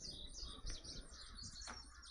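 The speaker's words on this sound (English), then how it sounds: "Oh, listen to the birds." Birds chirp along a forest trail, with bright high calls repeating in quick bursts through the whole stretch over a quiet, steady outdoor background; no one speaks.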